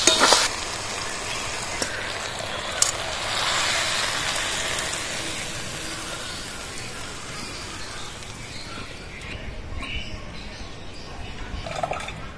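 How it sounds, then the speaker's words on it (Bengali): Kochur loti (taro stolons) sautéing in a pan with a pinch of sugar, giving a steady, fairly loud sizzle with scraping stirring sounds throughout, fading slightly toward the end. "তা ভালো করে নাড়াচাড়া করে নেব"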